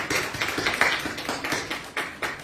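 A church congregation at a Korean Easter service with baptism and communion claps in a steady rhythmic beat, each clap sharp and fairly close, with no talking over it.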